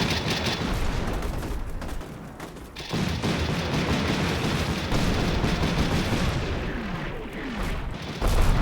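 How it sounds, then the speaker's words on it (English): An 81mm artillery barrage in Combat Mission Shock Force 2 pounds the area with a rolling mix of heavy booms and crackling gunfire, loud and continuous with brief lulls, no voices. "And then artillery barrage arrives, peppering the south of the map with 81mm."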